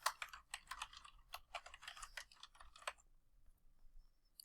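Quick bursts of computer keyboard typing enter a scenario name in a spreadsheet, close and crisp clattering for about three seconds before stopping into near silence.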